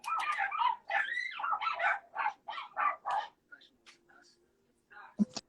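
Dogs bark and yip repeatedly in the background of a gaming podcast, their barks overlapping with a person talking through most of the stretch, then a few scattered yaps and one sharp louder bark near the end.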